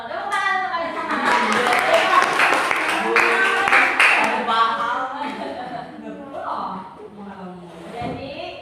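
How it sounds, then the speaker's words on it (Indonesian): Students clap together in a junior high classroom, a burst of scattered hand claps mixed with children's chatter and a teacher's voice, fading as talk takes over. "Tepuk tangan untuk kalian semua."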